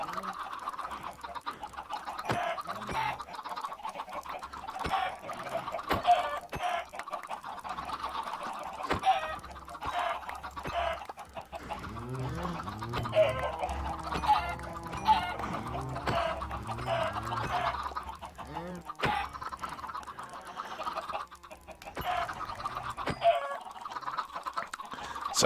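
Chickens clucking in the video game Minecraft, with repeated short clucks and squawks scattered over a steady background of game noise, fairly close and moderately loud, with no talking.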